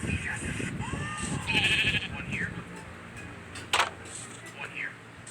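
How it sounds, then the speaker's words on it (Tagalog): Sheep bleating in Minecraft, a couple of short bleats among game sound effects and clicks, with a voice talking underneath. "ito yung tupa kong pangalan Ba"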